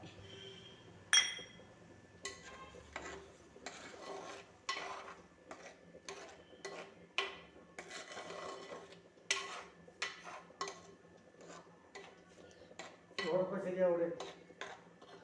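A spoon stirs curd into pumpkin pachadi in a pot, making a series of soft scrapes and light metallic clinks at irregular intervals, close by and fairly quiet, with a brief voice near the end.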